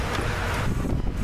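Wind buffets the microphone outdoors on a warm day in a loud, rough roar, gusting unevenly over a second or so, with no speech heard.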